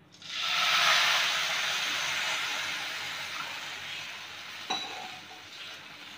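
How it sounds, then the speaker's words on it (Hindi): A glass of milk poured into a hot pan of coconut powder hisses into a loud, bright sizzle that slowly eases into steady bubbling, with a small knock near the end. "अब मैं इसमें डाल रही हूँ ये 1 गिलास दूध का"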